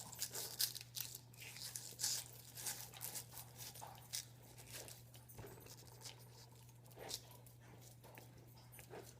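Pineapple corer being pulled up through a whole pineapple, producing a series of close, moderately quiet tearing and crunching scrapes of fibrous fruit with irregular bursts over a steady low hum.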